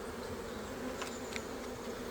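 Swarm of honey bees buzzing, a dense continuous hum with many overlapping wingbeats close by and no voices.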